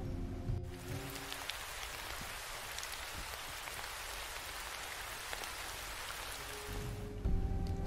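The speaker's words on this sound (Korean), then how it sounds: "차가운 바람이 불더니 부슬부슬 비가 내리기 시작했다" Steady rain falls alone for several seconds as a horror radio story sound effect, a dense, even hiss of drops on surfaces that fades in and out at the edges with no voices.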